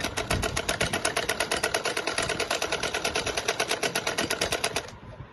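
A sewing machine runs steadily while stitching a seam on a salwar, a fast, even stream of needle strokes held close and loud for about five seconds before stopping abruptly.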